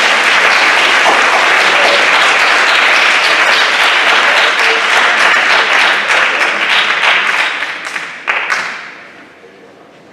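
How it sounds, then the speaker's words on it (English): Loud, sustained audience applause at a high school academic awards ceremony, a dense wash of many hands clapping that holds steady, then fades out over the last couple of seconds. "Let's give this group a round of applause,"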